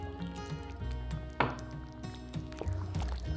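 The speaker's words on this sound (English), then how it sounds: "Then add 120ml or half a cup of double or heavy cream." Double cream poured into chopped tomatoes in a pan for a vegetable pasta bake, a soft, close liquid glug and slosh with a brief splash partway through.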